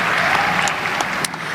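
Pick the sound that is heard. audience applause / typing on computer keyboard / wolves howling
audience applause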